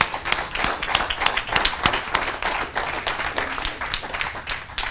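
Close, lively applause from a seated audience at a 2015 Dallas event, sharp individual claps layered into a loud, continuous patter throughout.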